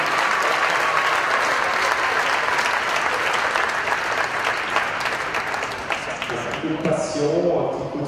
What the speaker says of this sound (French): merci pour vos applaudissements, c'est ce qui fait plus plaisir aux artistes